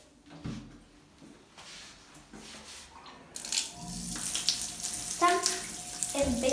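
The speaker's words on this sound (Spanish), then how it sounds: "vamos a empezar llenando con agua caliente" Hot water from a tap runs into a bathtub, a steady broadband rush that grows louder and fuller after a quieter stretch with a few small knocks and handling sounds.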